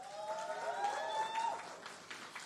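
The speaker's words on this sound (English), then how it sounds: "Every time we say the name, you have to cheer and applaud wildly." An audience at the Vision 2030 Jamaica Love Jamaica Fest cheers and applauds: a steady wash of clapping and crowd noise throughout, with a faint tonal sound running underneath.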